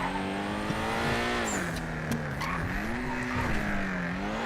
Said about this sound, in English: This is my 1970 Ford Mustang Fastback with the Roadrunner in.